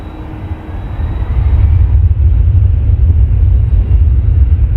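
Jazz aircraft rolling for takeoff on runway 23 at Toronto Pearson, a steady loud low rumble that swells after the first couple of seconds and holds, with no talk.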